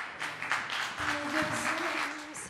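A television studio audience applauds on a Turkish talk show, with a steady wash of clapping throughout, moderately loud, and a faint tone and voice mixed in underneath.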